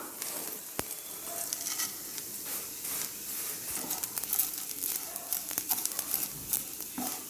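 Vermicelli roasting in ghee in a pan, a soft continuous crackling sizzle with scattered small pops and occasional scraping stirs, fairly quiet and close.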